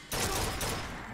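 A single loud gunshot from Bioshock Infinite fires sharply at the start, and its boom rings out and decays over the following second.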